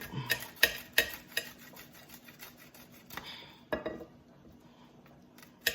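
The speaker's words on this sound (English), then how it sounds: "Old cheese grater. Grate it just like that." Garlic is grated on an old cheese grater, making a series of uneven, close scraping strokes with occasional light metallic knocks, all fairly quiet.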